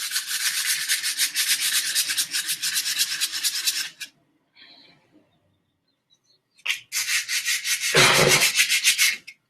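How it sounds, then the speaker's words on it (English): Hand sanding of a wooden wand gives loud, close, rhythmic rasping strokes for several seconds, then a quiet gap with faint knocks before the scraping strokes start again, heavier toward the end. "there's a lot of sanding that goes into making a wand"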